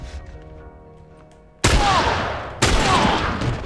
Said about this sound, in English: Oh, I shot his fucking arm off.